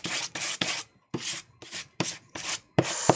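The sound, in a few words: spatula scraping acrylic paint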